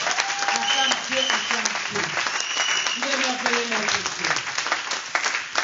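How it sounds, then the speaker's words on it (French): A church congregation applauds and cheers, loud and sustained, with a voice speaking over the clapping and crowd noise throughout. "Est-ce que tu peux accueillir cette parole par des acclamations?"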